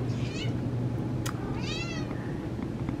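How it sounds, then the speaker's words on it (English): A munchkin cat named Adam meows a few times indoors, a short chirpy meow then a longer rising one, over a steady low hum of room noise. "Here's my little cat, Adam."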